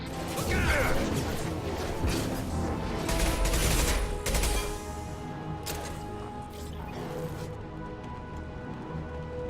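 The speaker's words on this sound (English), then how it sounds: "Okay, who's using a shotgun?" Shotgun fire in the video game Mass Effect 2, heavy booming blasts and crashes layered over dense combat noise and machinery, loud and continuous with a few sharper peaks.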